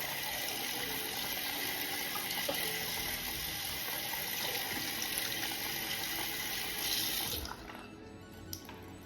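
A Fude brush is rinsed under a running kitchen tap, with a steady close rush of water that cuts off near the end, leaving faint drips and handling noise.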